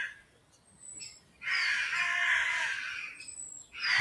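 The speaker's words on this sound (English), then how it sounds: "There's rooks and crows, jackdaws here." Rooks, crows and jackdaws in rural Aberdeenshire, North East Scotland, giving a few loud harsh caws in two clear bursts with quiet gaps between, close by and outdoors.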